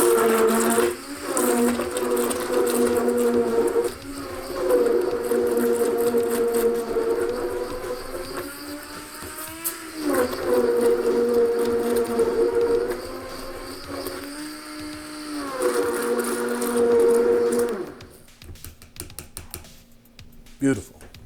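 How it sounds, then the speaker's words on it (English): Immersion blender whirring through a turmeric and vanilla bean gold drink, a loud steady motor hum that cuts out briefly at a few points before stopping near the end, with speech over it. "next step, we're gonna blend it all up. We got our nice immersion blender."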